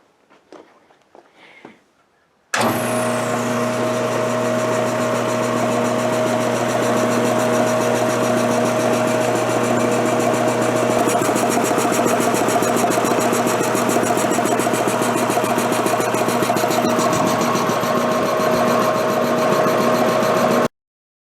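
An old 1953 air compressor with a flywheel starts abruptly after a few quiet seconds and runs steadily, a loud, close mechanical drone with a fast rhythmic chugging pulse and a constant hum, no voices.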